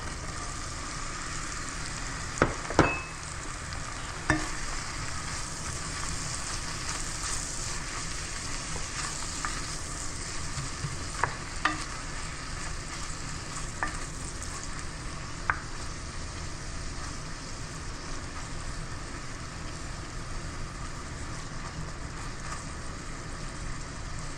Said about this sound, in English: we just want to kind of lightly color these onions for this dish